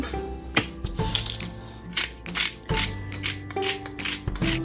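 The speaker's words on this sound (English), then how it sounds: "I can't seem to unscrew the top, so I guess I'm just gonna crack it into the pot." Whole peppercorns clatter from a cracked jar into a pot for tea eggs, a series of small sharp hard rattles and ticks, close and fairly quiet, with no voice.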